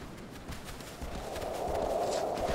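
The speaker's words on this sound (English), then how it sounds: "Jeez, horse. Calm down." Horse hooves clip-clop steadily at close range in the Shadow of the Colossus video game, over a low rumbling ambient bed that swells gradually louder toward the end, with no snorting clearly standing out.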